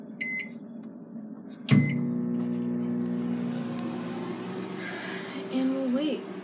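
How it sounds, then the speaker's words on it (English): A microwave oven heating chicken starts with keypad beeps and a clunk, then settles into a steady low hum that runs under quiet background sounds, with a faint voice near the end. "we'll put it in the microwave"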